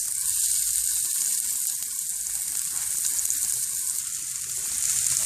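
Soy meatballs fry with onion and seasoning in olive oil, giving a steady, close, bright sizzle that crackles evenly throughout, with no talking.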